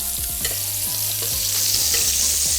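Butter foams and spatters in a hot pan with fish, making a loud, continuous sizzle. Short repeated scraping or chiming strokes recur over it about every half second, with no voices.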